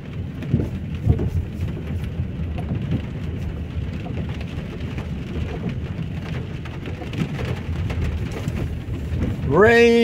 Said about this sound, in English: Rain in Luton. That's all I can say. We're getting a lot of rain.